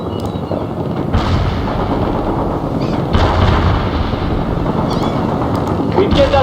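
Artillery fire in the video game World in Conflict: repeated heavy booms and rumbling shell blasts at intervals over a constant battle din, with radio voices talking throughout.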